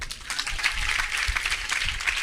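A church congregation claps together during a sermon, a dense, continuous patter of many hands at moderate volume lasting a couple of seconds.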